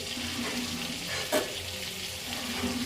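Butter sizzling in a pan at the start of a Bengali chicken stew: a steady, close frying hiss with a brief louder crackle in the middle and no talking.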